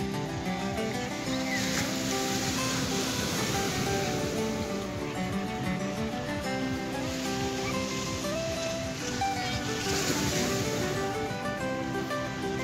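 Sea waves washing on the beach at Quy Nhon, Binh Dinh, at dawn, a continuous loud rushing surf with swelling breakers, some faint voices mixed in.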